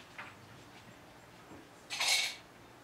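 Dishes and cutlery clatter in a home kitchen, one short soft clink early and then a brighter, louder burst of rattling crockery near the end, with no talk over it.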